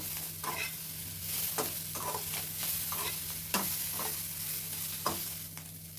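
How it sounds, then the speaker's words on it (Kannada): Broccoli fries in butter over a low flame, a soft steady sizzle broken by repeated scraping stirs and occasional sharp clacks of a utensil against the pan, under a faint low hum. "ಬ್ರೊಕೊಲಿ ಕೂಡ ನೀಟಾಗಿ ಇದೇ ಬಟರಲ್ಲಿ ಫ್ರೈ ಆಗಬೇಕು ಲೋ ಫ್ಲೇಮಲ್ಲಿ ಇಟ್ಕೊಳ್ಳಿ"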